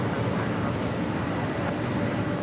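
Korean Air A380 airliner lining up on runway 25 left at LAX, a steady, loud broadband roar of jet engines with a constant high whine running through it, with no pauses.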